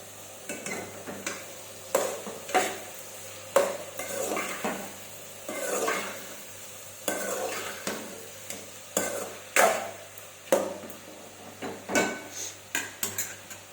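A spoon scrapes and clatters steadily around a pan of ridge gourd and egg curry with chili powder, repeated stirring strokes knocking against the metal with a faint sizzle underneath.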